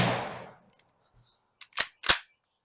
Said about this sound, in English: I'm going to have to single shot this one